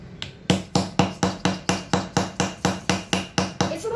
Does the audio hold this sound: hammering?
yes